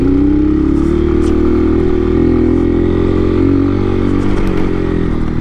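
A motorcycle engine drones loud and close while climbing a rough, steep road, its steady low hum rising slightly in pitch, with rattles and scrapes from the bumpy surface and no talking.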